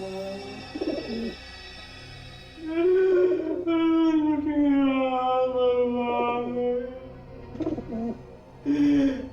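Low, drawn-out cooing calls rise and fall in a few long phrases, separated by short quieter gaps, fairly close and clear.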